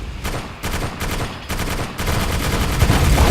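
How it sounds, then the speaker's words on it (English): Fireworks exploding after being shot in a video game: a dense, loud, continuous barrage of rapid bangs and crackles like heavy gunfire, building in strength toward the end. "They blow up when you shoot them."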